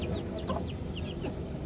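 Chicks and chickens kept on a balcony, with high short peeping calls and soft clucks repeating over a constant background hum, fairly close and no talk.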